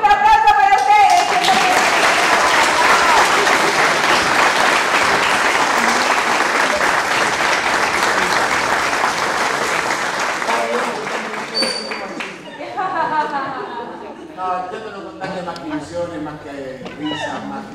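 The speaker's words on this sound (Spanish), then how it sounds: "Un aplauso para ustedes." Theatre audience applause after a play, loud and close for roughly ten seconds of dense clapping, then fading as voices begin to speak over the thinning claps.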